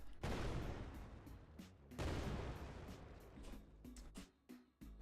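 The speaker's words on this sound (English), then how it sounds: "What do you guys think about explosion sound as a placeholder for just hitting the wall?" Explosion sound effects preview in a game editor, two loud booming blasts about two seconds apart, each with a long rumbling decay, followed by a few smaller crackling pops.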